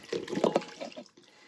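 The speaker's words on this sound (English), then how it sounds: "I'm going to take that pan of water with all the good bits that we just cooked" Water is poured from a cooking pan holding cooked pork shoulder bits, making a brief, close splashing gush that trails off into quiet within about a second.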